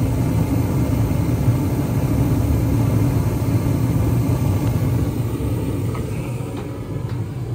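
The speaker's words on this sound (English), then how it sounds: "We should have ignition in just a second, and then our indoor blower will come on." A heater with glow-rod ignition fires up and its indoor blower runs, producing a steady, fairly loud low rumbling roar that eases off slightly toward the end, with no talking.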